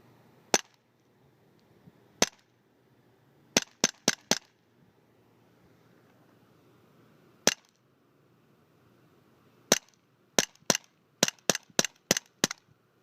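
Winchester Model 11 semi-automatic shotgun fired outdoors in a yard, sharp loud reports in scattered singles and then quick bursts of several shots, with quiet gaps between.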